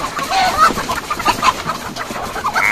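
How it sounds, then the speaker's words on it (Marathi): Several chickens cluck in short, scattered bursts on a farm, close and fairly loud, with a calf nearby and no talk over them. "बापरे बऱ्याच कोंबड्या"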